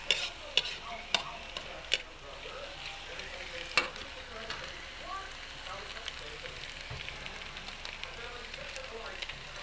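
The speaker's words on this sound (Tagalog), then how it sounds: "yung parang ginagisa-gisa lang natin sa mabuti para maluto" Bitter gourd (ampalaya) sautéing with egg in a pan gives a steady soft sizzle and frying crackle, with a few sharp clicks of a utensil against the pan early on.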